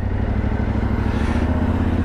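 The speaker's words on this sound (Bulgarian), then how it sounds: "колко много ми хареса звука на този мотор." A newly bought motorcycle idles steadily with a loud, close, low engine rumble that holds even throughout the short stretch, with no voices.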